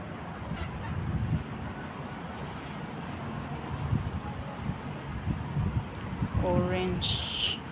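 Chickens cluck and call faintly amid wind noise outdoors in an orange and calamansi garden, with a short burst of rising calls near the end.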